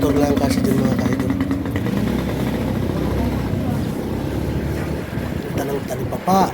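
A motorcycle rides through a narrow residential alley, its engine a steady close drone with wind noise while a voice talks over it.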